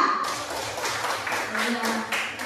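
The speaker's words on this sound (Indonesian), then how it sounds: "Tepuk tangan dulu untuk kelompok semangka." Children in a classroom clap together for the watermelon group, a steady, dense round of applause that runs throughout, with an adult voice speaking over it.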